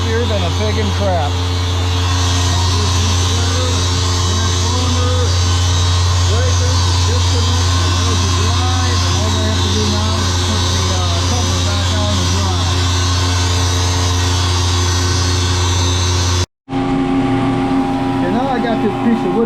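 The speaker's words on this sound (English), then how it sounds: "As the oil warms up in the vacuum pump, that current draw will go down." A maple-sugaring vacuum pump runs with a steady, loud mechanical drone and low hum, briefly cutting out near the end before resuming slightly changed.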